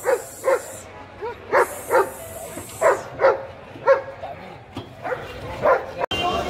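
Dogs bark repeatedly, with about a dozen close, loud yelps and bow-wows in an uneven rhythm at a Friday dog market, over background chatter.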